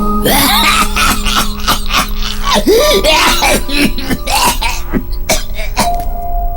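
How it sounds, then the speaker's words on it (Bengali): A man coughs heavily in repeated harsh bursts, close and loud, with throaty rasping between fits. "ওদিকে ভদ্রলোকের প্রচন্ড কাশি শুরু হয়েছে।"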